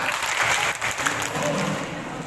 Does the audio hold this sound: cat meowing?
no